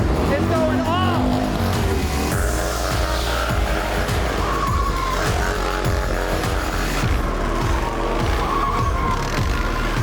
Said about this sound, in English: Joey and Foley holding it down for Shreddy on the Harleys, doing wheelies, burnouts